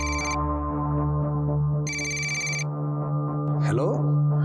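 A telephone ringtone rings in two repeated bursts over a steady musical background, with voices talking faintly underneath.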